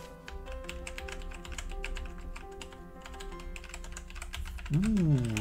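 Rapid, continuous typing on a Logitech G910 mechanical keyboard, with close, crisp key clicks in an uneven rhythm, while someone talks over it.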